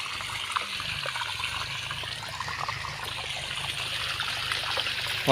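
Water pours steadily from a running irrigation pump on a farm field, a continuous rushing, gurgling stream at close range with no voices over it.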